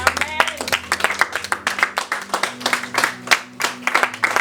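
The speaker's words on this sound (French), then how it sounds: "Est-ce qu'on peut se lever et acclamer Jésus?" A church congregation claps together to acclaim Jesus, a steady run of close, rhythmic handclaps with voices speaking underneath.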